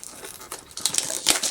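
A cellophane wrapper on a coffee-themed kit is crinkled and peeled off, with sharp close crackles that build toward louder bursts near the end.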